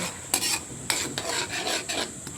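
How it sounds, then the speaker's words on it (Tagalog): Thick sweet and sour sauce for lapu-lapu gets stirred in a pan, a spoon rasping in several short scraping strokes over a faint sizzle, close with no talk. "Tapos haluin natin ulit, haluin."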